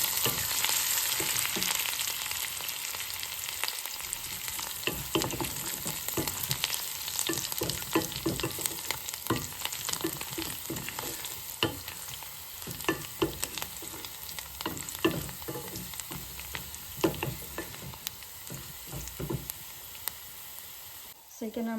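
Garlic and coriander leaves sizzle in hot oil for a tempering, a steady hiss with frequent clicks and scrapes of stirring throughout, close and fairly loud.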